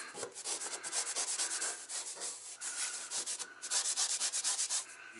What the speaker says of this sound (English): basically I'm chiseling it off with my fingernail there